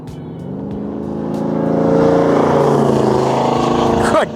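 A 1971 Pontiac LeMans T-37 accelerates hard in second gear, its loud engine roar rising steadily in pitch as it sweeps past close by, then cuts off abruptly.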